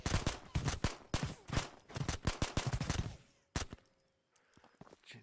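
Gunshots in the VR shooter Ghosts of Tabor: rapid bursts of sharp, close shots in quick succession, then a few isolated shots after a pause, fairly quiet overall.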